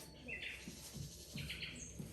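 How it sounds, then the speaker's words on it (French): Blackbirds singing in the evening in the south, with faint intermittent chirps and whistled phrases in the distance under soft talk and background noise. "Mais si, c'est des merles"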